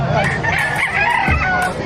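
Chickens and roosters, including white Kelso and Peruvian gamefowl, crow and cluck together at a busy poultry market in Bocaue, Bulacan, with people talking in the background.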